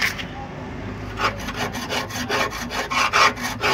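Sandpaper rubbed over a car part, coarse grit then fine, in a garage: steady rasping strokes repeating in a brisk rhythm, close and moderately loud, with no talking.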